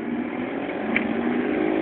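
Motorcycle engine running with a steady, droning tone, held fairly constant with a slight rise partway through, close and continuous with no talk.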